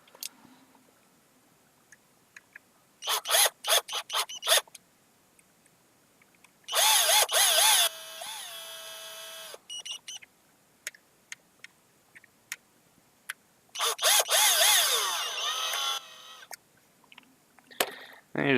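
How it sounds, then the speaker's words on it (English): A power drill whirs in several bursts, spinning up and slowing as screws are driven, separated by short pauses and small clicks. "So, grab a drill."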